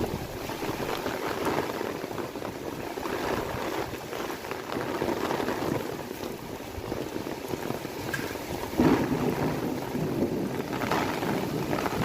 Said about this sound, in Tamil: இடியுடன் கூடிய கனமழை கொட்டி தீர்த்தது